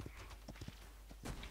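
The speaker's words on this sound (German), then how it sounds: "Vor allem dieses kleine Pferd schafft einfach mich, Dicky." In the video game Paladins, a small horse mount's hooves clip-clop in a quick, light rhythm, faint and fairly close, several clops over a brief stretch with game noise beneath.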